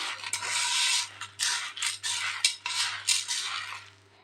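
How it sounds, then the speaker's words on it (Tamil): Dry roasted idli podi ingredients — lentils, chillies and spices — being mixed by hand or spoon in a vessel, giving bursts of gritty scraping and rustling that come in irregular strokes, close and fairly loud, with no talking. "இது எல்லாத்தையும் நல்லா மிக்ஸ் பண்ணிக்கலாங்க."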